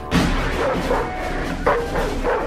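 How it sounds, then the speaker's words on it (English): A bull mastiff war dog gives a couple of deep barks and yelps over a loud, dense background of noise and music. "And this was Cortez's first secret weapon, a bull mastiff."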